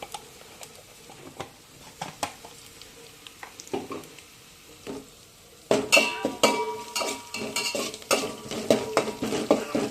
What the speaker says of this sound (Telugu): చాలా రోజులకి మా శ్రీవారు ఉప్మా చేస్తున్నాడు మా కోసం.